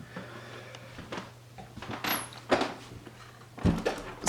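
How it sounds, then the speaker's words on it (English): A studio door is opened with a few knocks and clunks: a soft thud partway through, then a sharper bang and a final thump, heard close over a low hum. "This is the door and we are opening the door to paradise."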